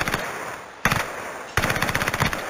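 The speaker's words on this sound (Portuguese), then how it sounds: "Tá vindo tiro da onde?" Automatic weapon fire in the video game Call of Duty Warzone comes in three sharp rapid bursts separated by brief gaps. It is loud and close, with no talking.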